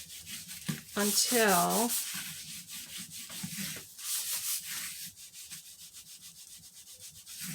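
A cloth rubs melted wax off a cardboard surface in steady, scratchy back-and-forth strokes, close and fairly loud. A voice speaks briefly over the wiping.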